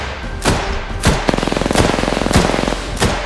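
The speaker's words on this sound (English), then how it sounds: "Yo, he started to shoot at you." Gunfire in the Apex Legends battle royale: a rapid automatic burst rattles through the middle, framed by several heavy single shots and thuds, loud and close.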